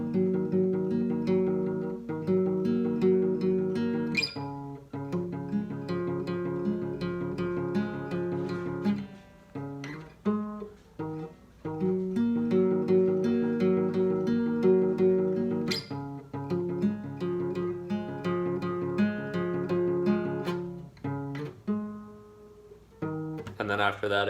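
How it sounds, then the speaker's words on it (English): An acoustic guitar plays a repeating fingerpicked pattern, close and steady with plucked notes and strummed chords, a few brief pauses breaking the loop. "I noticed that it had a really good guitar pattern"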